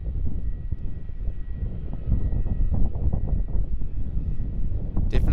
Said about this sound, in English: Qantas Boeing 737-800 on the main runway.